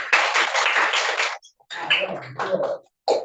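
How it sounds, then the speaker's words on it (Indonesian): Students in a classroom clap for group B, a dense burst of applause lasting over a second, then a pause followed by scattered claps and some voices. "sudah tepuk tangan untuk kelompok B."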